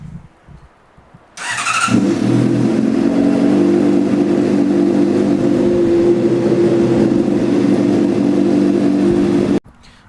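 A 2015 Honda CBR600RR motorcycle fires up with a quick starter whine, then settles into a loud, steady idle close by until the engine cuts off abruptly near the end.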